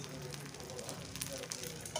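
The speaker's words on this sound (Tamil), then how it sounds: "கொஞ்சமாக எண்ணெய் விடுறேன்" Oil sizzling in a pan as a masala bun dosa fries, a faint, steady crackling hiss with small scattered pops over a short stretch.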